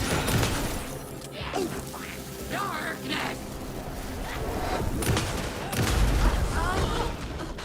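A suicide explosion from an enemy in Alan Wake 2 bursts out in a loud, crackling blast amid dense game noise, with a second rumbling surge near the end. A voice talks over the din.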